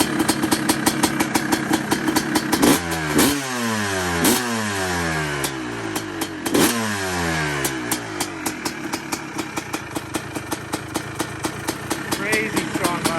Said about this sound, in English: Probably the fastest two-stroke I've ever ridden.